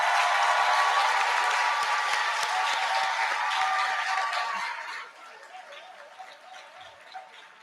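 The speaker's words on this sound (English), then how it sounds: "Give them a round of applause." Applause fills the hall at an induction ceremony for newly qualified medical and dental practitioners: sustained clapping from a large audience that thins out and tapers to scattered claps after about five seconds.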